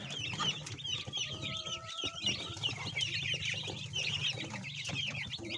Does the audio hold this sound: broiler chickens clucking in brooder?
yes